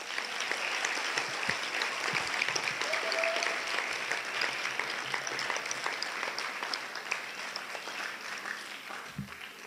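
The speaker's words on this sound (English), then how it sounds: "those performers need another really big rousing clap" An audience at a winter concert gives sustained, steady applause, a dense wash of many hands clapping throughout, with no speech over it.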